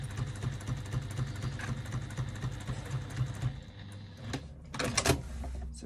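A sewing machine with cream thread runs a line of stitching along a fabric edge at a one-eighth-inch seam, giving a rapid, even mechanical chatter for a few seconds. It then stops, followed by a couple of sharp clicks and handling noises.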